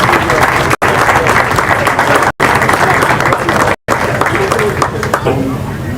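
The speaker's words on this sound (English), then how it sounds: "A round of applause, ladies and gentlemen." Audience at a school speech day marking an anniversary, applauding a special guest with loud, dense clapping from a large crowd, broken by a few brief dropouts and easing slightly toward the end.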